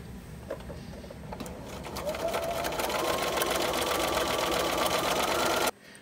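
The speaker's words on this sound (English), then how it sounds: "I'll finish by sewing strips going in this direction" A sewing machine runs continuously, stitching fabric strips for a string-pieced bowl cozy, its rapid mechanical chatter speeding up slightly before stopping abruptly.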